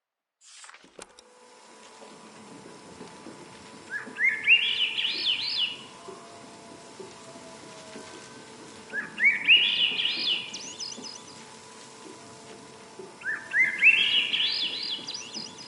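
Birds in the video game Season: A Letter to the Future, three separate bursts of rising, twittering chirps spaced a few seconds apart over a quiet hum.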